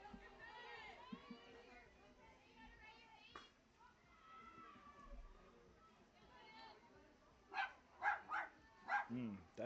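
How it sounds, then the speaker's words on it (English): A dog barks shrilly in the early morning at a summer college baseball game, a quick run of four or five sharp barks near the end, following a stretch of distant chatter and voices. "That dog is a little shrill here this early in the morning"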